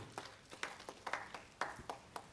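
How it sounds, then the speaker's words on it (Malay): Sparse applause from a small audience at a book review event, about a dozen separate, fairly quiet claps spread over a couple of seconds. "kita bagi tepukan kepada Prof. Dr. Samsul"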